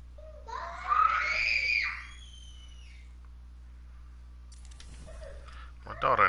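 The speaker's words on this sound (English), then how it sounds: "My daughter in there screaming like a mad person." A young daughter screams loudly in another room, a strained, high-pitched burst lasting about a second and a half, followed by quiet and faint distant voices.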